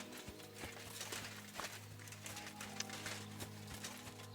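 Hooves clip-clop at a steady walking pace from a horse pulling a cart in Kingdom Come: Deliverance II, with a low continuous hum running underneath.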